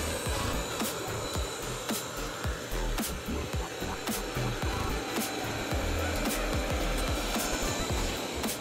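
An Uoni S1 robot vacuum cleaner runs under a table, a steady whirring suction hum punctuated by repeated brushing and clicking knocks, close and continuous without any talk.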